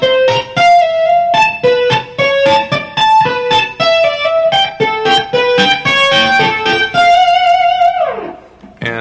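An electric guitar played through distortion picks out a melodic part of a song, with bright, sustained notes in a quick, steady rhythm that ends in a downward slide, played alone and loud.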